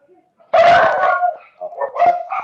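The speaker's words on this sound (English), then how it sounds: "My dogs just go nuts every time that she comes." Dogs barking excitedly indoors, a loud close yelping bark followed by several shorter yips and whines, with people talking around them.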